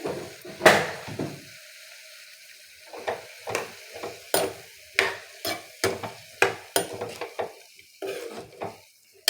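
Ivy gourd (kovakkai) slices are mixed in a pan with salt and a little water, a spatula scraping and knocking against the metal in a steady run of strokes over a soft sizzle.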